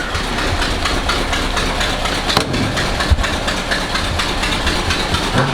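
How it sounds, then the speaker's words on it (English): A rough Ford pickup engine idles steadily with a loud rumble, with occasional sharp pops from an exhaust leak breaking through. "it's got an exhaust leak. Getting a pretty big pop."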